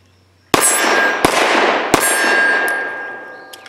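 Canik TP9 SFx pistol in FDE firing Liberty 65-grain Civil Trainer lead-free rounds: three loud, sharp shots about a second apart, each followed by a long, bright ringing decay.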